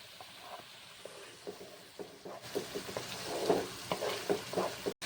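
Spice masala of chili powder, turmeric and salt with tomato paste sizzles in a pan while being stirred, soft steady frying hiss growing louder midway with scraping stir strokes, no talking.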